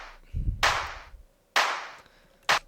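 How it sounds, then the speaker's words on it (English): Three separate sharp electronic clap sample hits with short decays, spaced about a second apart, preceded by a low thump. "we have a clap."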